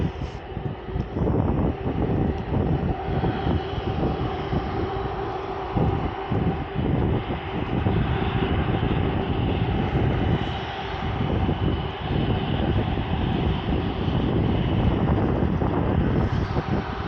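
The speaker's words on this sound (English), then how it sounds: "And the Finnair A321 that just took off is going to Helsinki." A Finnair Airbus A321 takes off at Manchester Airport, its jet engines a loud, steady broadband roar that holds for the whole stretch with some wind buffeting on the microphone.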